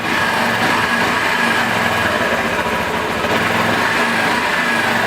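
A Zipp VZ-6 scooter engine, being warmed up, revs hard and close, a loud continuous buzzing drone that holds steady for about five seconds with no talking.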